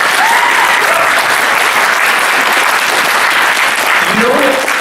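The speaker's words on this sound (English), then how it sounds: "round of applause for Rachel" Loud, sustained applause from an audience at a voice-acting panel, dense clapping filling the whole stretch with a few faint voices mixed in.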